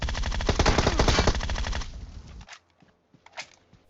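Rapid automatic gunfire in the mobile battle royale game PUBG Mobile, a dense loud burst for about two seconds that cuts off, followed by a few scattered fainter shots.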